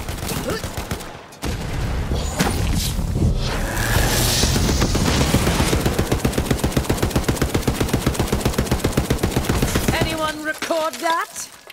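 A Borderlands 3 gun fires saw blades in a long, steady rapid stream of loud repeated shots, ending with whirring, warbling tones.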